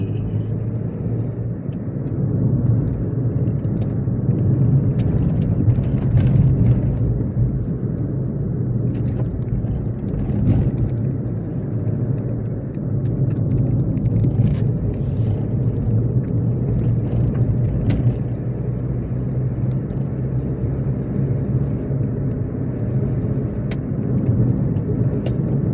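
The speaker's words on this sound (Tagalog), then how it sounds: "Sasakyan ng guest. Yan lang pumarada." A guest's car arrives and parks near a tunnel site, its engine a low, steady rumble that holds throughout, with faint intermittent clicks and knocks above it.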